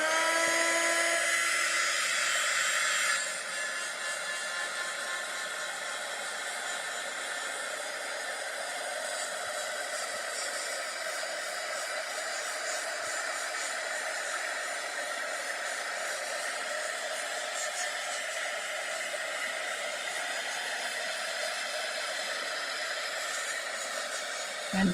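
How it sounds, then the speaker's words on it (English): A heat gun blows a steady, loud hiss of air close by, running without a break throughout and slightly louder at the very start, with no talking over it. "Now I'm going to get my heat gun,"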